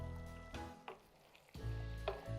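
Mutton or meat for Peshawari Shinwari karahi frying with spices in a pan, a close sizzle broken by a few stirring scrapes and squishy bursts, with no talking.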